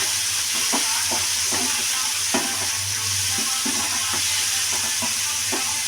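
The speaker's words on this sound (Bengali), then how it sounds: "দিয়ে দেবো লবণ আর দিয়ে দেবো হলুদ, দিয়ে ভালো করে ভেজে নেব।" Prawns frying in a pan with salt and turmeric, a loud continuous close sizzle broken by soft rhythmic stirring knocks, without any speech.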